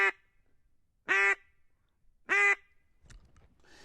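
A duck call imitates a lonesome mallard hen with three single loud quacks spaced about a second apart, each one nasal and clear against near silence, followed by faint rustling.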